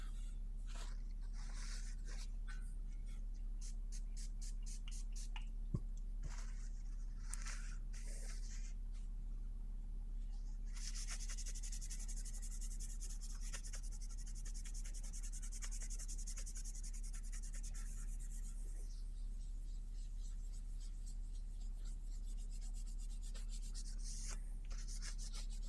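Kitchen roll rubbed over the serial number area of a car chassis, giving soft, intermittent scrubbing and wiping strokes, close and fairly quiet, with a steadier stretch of rubbing in the middle.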